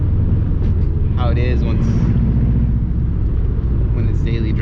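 A 2005 Subaru STI with a COBB 20G turbo drives along, its steady low engine rumble filling the cabin continuously while someone talks over it in places.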